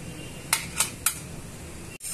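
A spoon scrapes freshly ground idly-and-dosa chutney out of a grinder jar into a bowl: three quick, sharp scrapes about a quarter second apart, close and clear, followed by a short lull.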